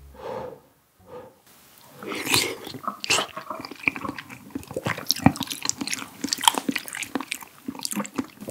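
Close-miked chewing and biting of steamed Korean egg (gyeran-jjim) during a spicy tteokbokki eating show, with a brief breathy pause first and then soft, wet bites and mastication repeating steadily with no talk.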